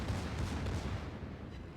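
Secondary guns of a warship booming in World of Warships, a dense rumbling volley of overlapping low blasts filling the short moment without a break.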